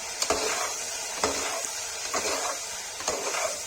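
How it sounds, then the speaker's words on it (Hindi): Red chili powder with turmeric frying in a pan for a Kashmiri pea and potato curry, a steady close sizzle broken by four or five scraping stirs at a loose rhythm, with no voices. "लाल मिर्च डाल दिया। तो भून लेंगे अच्छे से।"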